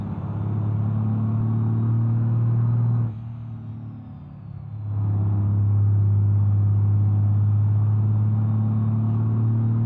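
A car racing flat out in BeamNG.drive on the Jungle Rock Island map: a loud, steady engine drone holds high, drops briefly as the throttle eases, then surges back to a sustained roar.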